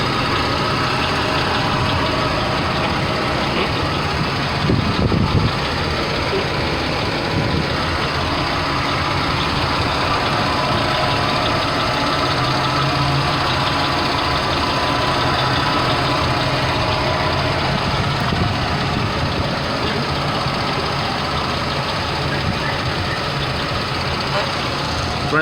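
A truck engine with clogged catalytic converters idles in a loud, continuous low rumble. Someone speaks intermittently over the drone, and a brief knock is heard around the middle.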